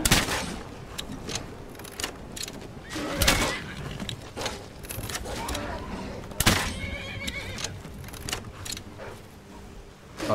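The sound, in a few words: horse neighing while wolves attack it, in Skyrim video game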